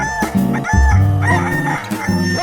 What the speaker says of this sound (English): And the cockerel cock-a-doodle-dooed.